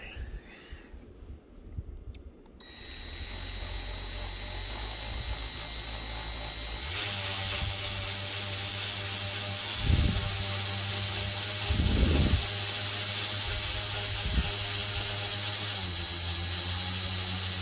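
A power sander runs steadily on an engraved, stained wooden plaque fitted with 180 grit paper. The motor starts after a quiet moment, then drones loud and continuous, with a few brief surges as the pad presses and shifts.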